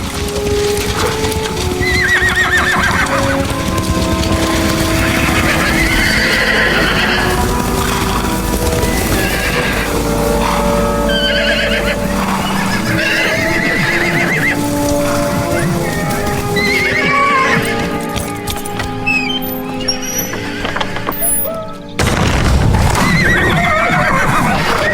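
Young horses being moved together at a stud farm whinny and neigh repeatedly while hooves clip-clop steadily beneath, under a narrator's voice and soft music.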